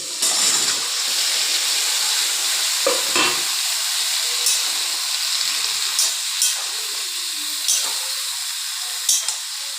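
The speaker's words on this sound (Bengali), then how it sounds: "ভালো করে একটু নাড়িয়ে চাড়িয়ে" Vegetables frying in spiced masala while being stirred, a steady hissing sizzle broken by sharp scrapes and taps of a spoon against the pan, close and fairly loud.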